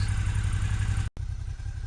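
A car engine idling with its RVS engine treatment applied, a steady low rhythmic rumble close by, broken once by a momentary cut-out before the running resumes; no talk.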